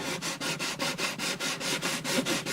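Sandpaper rubbed back and forth over the bridge of an Alvarez Artist AD65 acoustic guitar, a steady rasping scrub at about five strokes per second, close and even, with no voices.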